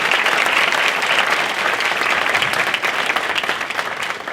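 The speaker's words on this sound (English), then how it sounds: "Let's give them a round of applause before I introduce them." Sustained, even applause from an audience welcoming a panel of six speakers at an event on Black wealth, dense clapping throughout with slight tapering toward the end.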